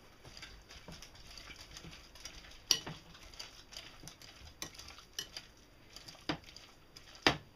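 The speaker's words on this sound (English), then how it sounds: "Then just gonna stir the two together." A utensil stirs chopped egg and mayonnaise together in a bowl, giving quiet, close scraping and soft clinks in an irregular rhythm, with a few sharper taps against the dish.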